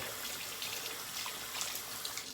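Tap water runs steadily into a sink to wet a handmade shaving brush by Eric Sorrentino, a continuous close splashing hiss with no talk.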